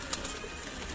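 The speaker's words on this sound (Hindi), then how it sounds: "दोस्तों ये सारे कबूतर हैं जी" Pigeons coo softly against a constant background hiss. A few short, faint calls are spread across a brief moment.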